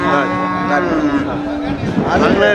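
Cattle mooing amid the busy Melapalayam cattle market in Tamil Nadu, with a long drawn-out low call over a steady background of voices and crowd noise.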